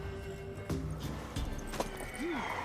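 Horse, a mare, in The Witcher 3, giving a few close hoof clops and a short whinny-like snort amid a quiet game ambience and soft background music.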